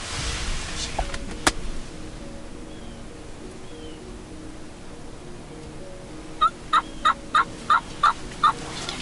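Distant wild turkey gobbling, a quick series of about seven short rattling notes over steady outdoor hiss and faint background rumble.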